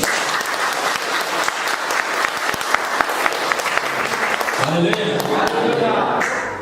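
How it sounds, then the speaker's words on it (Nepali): A Nepali church congregation gives a burst of sustained, crowded applause with sharp individual claps. Near the end, a voice rises through the fading clapping. "कमसेकम ताली बजाइदिनुहोस्"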